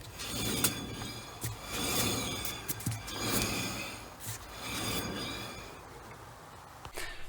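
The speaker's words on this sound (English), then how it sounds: "that is the wheel bearing that's gone again" A worn wheel bearing on a jacked-up Ford Fiesta Mk3, the wheel spun by hand, gives a grinding, rumbling mechanical noise that swells and fades in repeated waves with each turn, close by and without talk.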